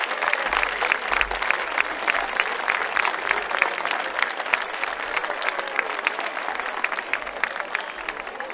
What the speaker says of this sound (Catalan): Ja només per això es mereixen de tots vosaltres un fort aplaudiment.